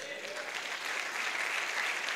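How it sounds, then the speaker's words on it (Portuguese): A church congregation applauds during a sermon, a steady dense wash of clapping from many hands that sounds somewhat distant and fills the whole moment without a break. "Diga glória a Deus e aplauda o Senhor"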